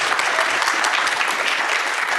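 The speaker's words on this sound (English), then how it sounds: "Give her a round of applause." Dense, even applause from a conference audience greeting a speaker, loud and continuous throughout with no talking.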